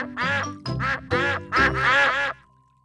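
Animated ducks from the Peppa Pig's Golden Boots game quack five times in close succession, loud and near, with a brief electronic tone trailing at the end.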